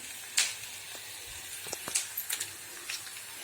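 Onions sautéing in a pan for a bitter gourd curry, giving a soft, steady sizzle with a few sharper crackles and pops rising over it, heard close up with no talking.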